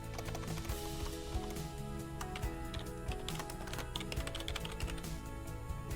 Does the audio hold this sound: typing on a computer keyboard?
yes